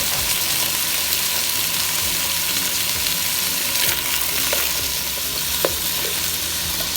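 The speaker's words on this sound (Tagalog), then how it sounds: "Ngayon naman, ipirito muna natin ang carrots and potatoes." Carrots and potatoes fry in hot oil for beef and liver kaldereta, with a steady close sizzle and crackle throughout and occasional stirring clinks and scrapes.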